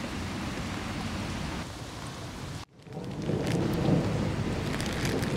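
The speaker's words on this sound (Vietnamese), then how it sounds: "Trời cũng còn mưa râm râm thôi" Light drizzle falls steadily outdoors at Trịnh Công Sơn's grave, a soft even hiss that briefly drops out partway through and then returns slightly louder, with no voices.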